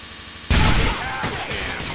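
Gunfire in a Grand Theft Auto shootout erupts suddenly as a loud, dense volley after a brief quiet lead-in, then keeps rattling steadily as sustained firing with no talk over it.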